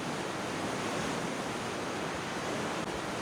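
Strong water current and waves in the video game Trespasser, a continuous broad rushing wash of surf with no breaks, steady and fairly loud.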